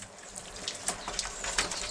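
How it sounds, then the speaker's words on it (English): Water runs and splashes steadily from an outdoor shower in Ethiopia. The sound is broken up by irregular drips and spatters, and a faint bird is heard in the background. "I'm getting freshening myself up in the old outdoor shower"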